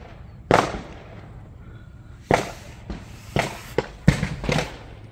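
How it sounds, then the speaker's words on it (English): Gunshots go off at a busy pistol and rifle shooting range: about six sharp, moderately distant bangs spread unevenly over a few seconds, each with a short echoing tail, and no one talking. "You can hear a gunshot."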